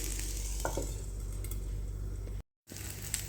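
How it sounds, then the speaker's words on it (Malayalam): Oil is spread around a hot, old cooking pan, giving a close, steady sizzle with faint scraping, cutting out to silence for a moment before the frying hiss returns. "ഓയിലൊന്ന് സ്പ്രെഡായി കൊടുക്കണം ഇങ്ങനെ"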